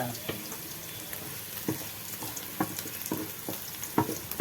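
Onions and masala sautéed in a pan for country chicken rasam: a constant frying hiss with intermittent stirring scrapes and knocks of a spoon, close by and fairly quiet, with no one speaking.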